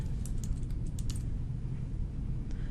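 Keyboard typing while entering a chief complaint into electronic health record software: a brief cluster of light key clicks near the start, then quieter taps over a steady low background hum.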